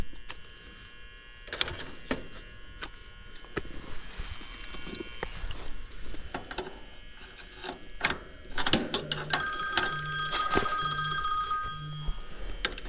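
A phone rings in a room where a Trane condenser fan motor is being serviced, sounding as a repeated electronic ringtone with bright tones and short pulses, loud and close, over background clatter and handling noise.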